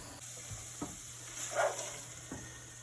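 Kidney beans and chili beans with tomatoes and green chili being stirred in a pan, with a soft sizzle under a few spoon scrapes and knocks spaced across the clip.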